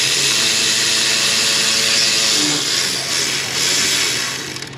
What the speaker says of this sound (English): we'll hit the rest of them with the electric ratchet